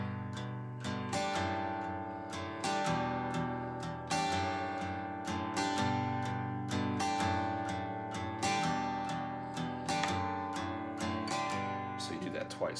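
Acoustic guitar strummed close up in a repeating pattern of four down strums, the last followed at once by a quick up strum, cycling steadily with bright, ringing chords.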